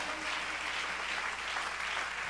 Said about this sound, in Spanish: Un aplauso al Señor en esta hora